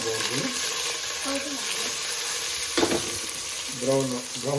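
Onion frying in oil for a home-style vegetable pulav gives a steady sizzle with scraping stir strokes and a sharp spatter near the end, while a voice speaks briefly at the start and close.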